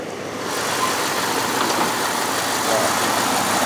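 A 1996 Ram 1500 pickup's 5.9 liter engine idles with a steady, dense rumble, close and constant throughout.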